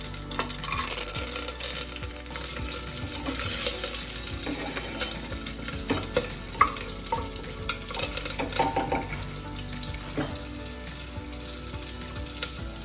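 Mustard seeds, cumin and whole spices sizzle in hot ghee in a pan for a tomato biryani, giving a continuous crackling fry with scraping stirs and small pops close by.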